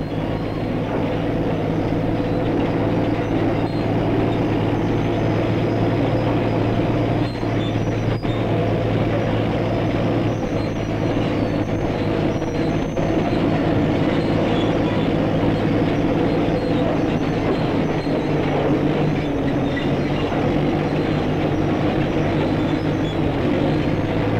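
A heavy engine drones on steadily, a deep continuous rumble of road trains hauling 60-ton loads of manganese ore, loud and even throughout.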